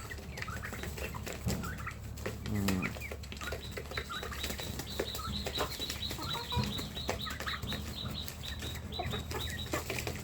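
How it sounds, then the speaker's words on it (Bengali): Two turkeys gobble among naked-neck chickens in a farm shed, brief rattling gobbles standing out over a constant din of clucking fowl and occasional wing flaps. "এই যে গলা ছিলা মুরগিগুলো সবগুলো সুস্থ সবল আছে। 2টা টার্কি আছে আমার।"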